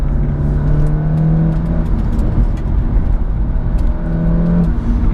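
Turbocharged 400 HP big-turbo Audi A3 2.0T pulling hard on a race track, a loud, steady engine drone heard from inside the cabin, with a brief lift and rev change near the end.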